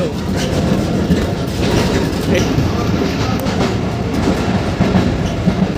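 A passenger train rolls along the rails in Rajshahi, heard from inside a carriage as a loud continuous rumble with rhythmic clickety-clack, and faint voices in the background.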